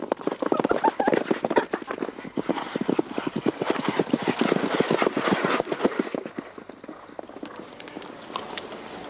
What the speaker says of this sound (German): Sind die Felder abgeerntet, haben die Reiter freie Bahn für den Galopp querfeldein.